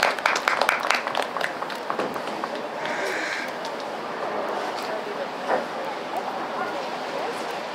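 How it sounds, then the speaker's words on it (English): Crowd applause at the Connollys Red Mills Munster 1.35 Grand Prix 2023 show jumping event in Maryville: crisp, dense clapping at the start that settles into a steady wash of applause, with voices in the background. "Give her a big round of applause, please."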